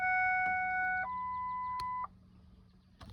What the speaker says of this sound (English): You can hear your pump running, filling up your fuel bowl.